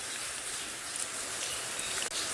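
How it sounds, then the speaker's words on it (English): Heavy rain pours down steadily in gusty high wind at a safari lodge, a dense, unbroken hiss that fills the whole stretch with no lull. "So you get these downpours and then a little lull and then you think you're safe and then downpour again."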